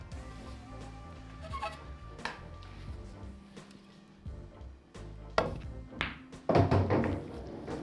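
A pool cue strikes the cue ball, which kicks off the rail; a few sharp clacks and soft knocks near the end, close and fairly quiet, with no talk.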